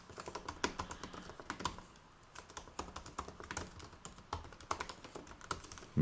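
Rapid typing on a computer keyboard, with dense, uneven bursts of close, crisp key clicks and a short pause partway through.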